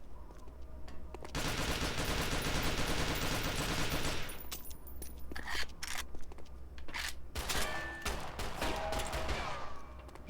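Rapid pistol gunfire in a video game fight against gun-wielding skeletons, a dense loud barrage for the first four seconds followed by scattered sharp shots and clicks.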